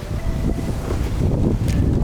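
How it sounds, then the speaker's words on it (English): Wind outdoors near a hotel garden in Odaiba, Japan, buffeting the microphone in loud, uneven low rumbles and gusts throughout, with no talk over it. "It's a little windy"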